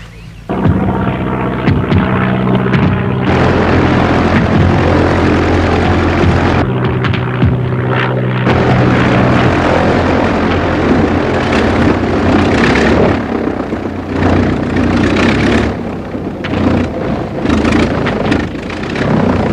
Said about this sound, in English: That engine's running a bit rough, isn't it?